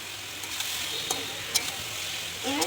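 Meat being sautéed with spices for kosha sizzles steadily in a pan, broad hiss with a few sharp stirring scrapes and crackles, close and alone.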